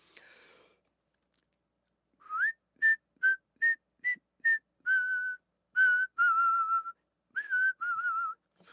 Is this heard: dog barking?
no